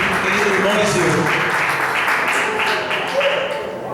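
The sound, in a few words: applause in church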